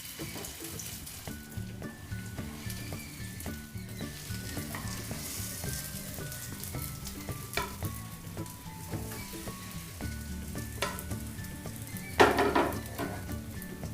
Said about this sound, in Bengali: তাওয়াতে তেল গরম হয়ে গেছে, এবার ভেজে নেব।